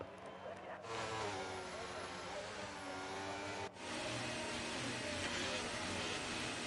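Race cars on a formation lap in an EA racing video game, a continuous buzzing engine drone with rising and falling revs and a brief dip midway, quiet and steady throughout.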